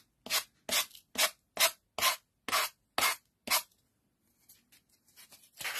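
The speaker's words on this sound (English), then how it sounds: "now we can sand the edges of these." Edges of MDF door hanger pieces being sanded by hand in eight quick, even rasping strokes, followed by a short pause and then fainter scratching.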